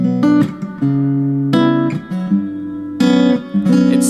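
Guitar plays a song, rich sustained chords with a few quick changes, close and loud without voices.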